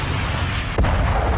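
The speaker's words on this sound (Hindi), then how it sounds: "इसी के थोड़ी देर बाद लुहांस्क के गांव में बारूदी धमाका हुआ" A village in Luhansk is hit by a single heavy explosion, a sudden deep boom that cuts through a steady rumbling background partway through the moment.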